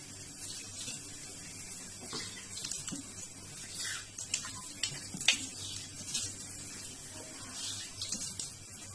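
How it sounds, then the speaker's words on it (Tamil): Warm water runs steadily from a tap, a faint, continuous splashing stream heard close by, with a few soft knocks and handling noises over it and no voices. "ஸோ டேப்ல வந்து வார்ம் வாட்டர் வரும்."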